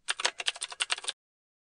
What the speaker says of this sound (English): Install the required system packages by typing in command.